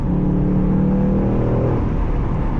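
A Ford Mustang Dark Horse with a six-speed manual accelerates hard in second gear, its engine a loud, steady, rising roar heard from inside the car without pause.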